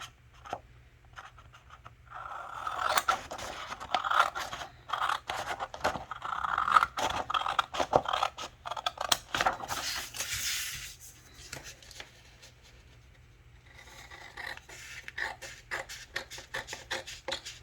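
Scissors snip steadily through a paper wallet insert, producing repeated crisp cuts and scraping paper sounds up close for several seconds, then lighter, sparser snips toward the end.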